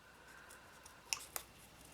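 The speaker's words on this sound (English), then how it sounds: "I'm going to cut off a petal just like so" Scissors snip a punched paper flower petal in two quick, faint clicks close by, against a quiet background with no talking.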